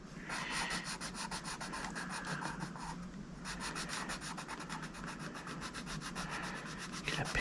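Colored pencil rubbing steadily on paper in a close, continuous scratchy shading sound with rapid back-and-forth strokes and a brief pause partway through, heard alone with no talking.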